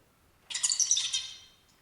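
A young songbird raised under contingent playback delivers one short, bright burst of song lasting about a second. It is recorded and heard alone against quiet.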